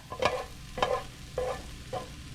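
Pasta is stirred into a hot pan of frying carrots and onions, with four distinct scraping stir strokes over a steady sizzle, close and fairly quiet.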